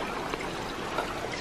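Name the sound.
water trickling at a mountain temple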